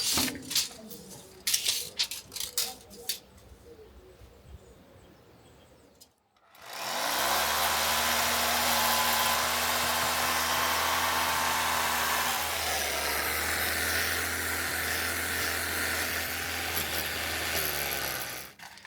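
A small drill bit bores through a wall for ducting, a loud, steady, close grinding drone that starts suddenly after some quieter clattering and continues without a break.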